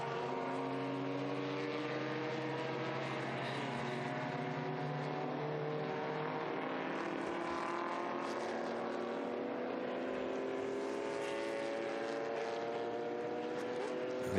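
Historic racing cars, Ford Escorts and Porsche 356s, roar past in a continuous stream of engine noise, pitches sweeping as they pass and overlap, heard at moderate distance with no voices.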